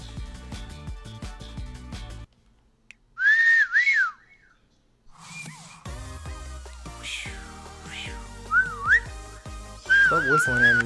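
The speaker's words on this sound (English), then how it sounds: "Stop whistling at me" A person whistles a few short melodic phrases, close and clear, with gaps in between, over loud background music and game sounds.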